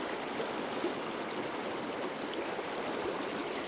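A tiny river flows in a steady, close rushing babble, continuous and unbroken, with no voices.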